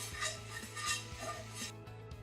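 A whisk beats milk into a flour roux in a pan over low heat for queso dip, rhythmic metallic scraping strokes repeating about every third of a second, close and steady.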